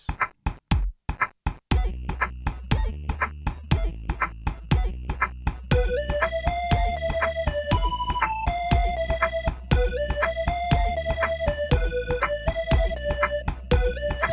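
A simple synth tune made in a music tech project opens with sharp percussive hits, then a bright chiptune-like melody enters over a steady beat, loud and continuous.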